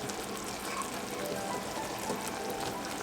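Boiling cookie mixture bubbles and sizzles steadily in a pan while being stirred, a dense, even crackle that holds at the same level throughout, with no talk.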